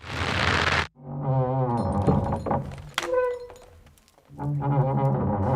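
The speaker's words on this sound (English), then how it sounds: "The big wooden construction and the ropes have to creak a lot." A big wooden trebuchet from Kingdom Come: Deliverance 2 creaks and groans along with its straining ropes. A hissing burst gives way to drawn-out, tonal wooden creaks with a few sharp knocks, fading briefly before another long groan.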